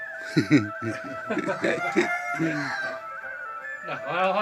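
Chickens and a rooster in a Thai village setting, with crowing and clucking calls mixed under close, lively conversation from several people.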